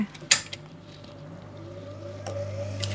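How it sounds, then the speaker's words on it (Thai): Sewing machine stitching a seam on fabric while a blouse is made, with a steady low mechanical hum and rising motor whir, plus a few sharp clicks and creaks near the start and end. "แล้วก็จับเย็บได้เลยแบบนี้ค่ะ"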